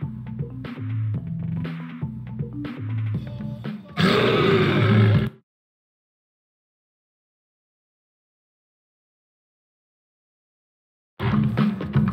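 A roaring animal in the Madagascar video game lets out one loud, rough, lion-like roar lasting about a second, following quieter grunting game sounds, then silence before a similar burst returns at the end.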